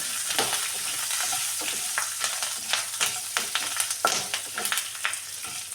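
Two dried red chillies fry in oil for a coriander leaf chutney, making a busy crackling sizzle with frequent sharp pops and spatters throughout, close and fairly loud.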